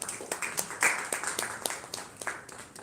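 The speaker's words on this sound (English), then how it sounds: "Please give me a round of applause." Crowd clapping at a film festival award ceremony, a smaller audience giving brief applause with distinct individual claps audible in a loose, uneven rhythm.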